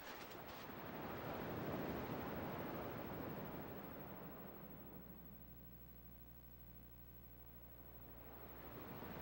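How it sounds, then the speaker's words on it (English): Ocean waves in Kingdom Hearts 2 roll in as a steady, soft surf wash with a wind-like hiss, swelling and easing over several seconds while a low tonal hum from the game comes in partway through. "At least the waves sound the same."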